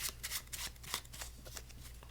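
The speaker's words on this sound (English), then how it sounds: "And then we can shuffle it up again." Quiet riffling and flicking of a card deck being shuffled, several quick bursts close by with no talking.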